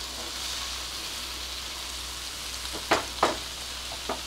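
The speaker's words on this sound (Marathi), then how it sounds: "आता बेसिकली आपल्याला लाल भोपळा शिजवून घ्यायचा आहे." Red pumpkin pieces cook in a pan with a soft, continuous sizzle, joined late by a few short scraping stirs.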